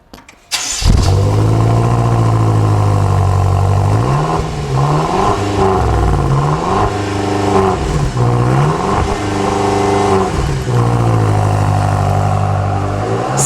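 A 2014 BMW M5 V8 fires up through its quad exhaust, then settles into a loud, close idle broken by a series of rhythmic blips and revs that rise and fall in pitch.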